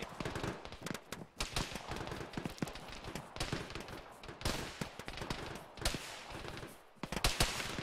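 Sustained gunfire in the ArmA military game, with repeated bursts of rifle and machine-gun shots cracking close by in an irregular rhythm, some rapid volleys and others spaced apart, loud throughout.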